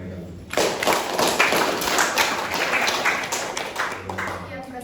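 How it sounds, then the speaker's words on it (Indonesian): Applause from an audience after a group's classroom presentation on a design-thinking prototype, a dense wash of hand claps starting abruptly and sustained fairly loud before easing off at the end. "Oke, aplaus untuk mereka."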